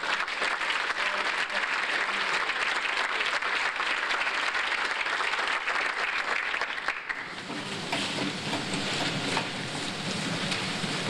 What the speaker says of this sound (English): How about a nice round of applause for our 1990.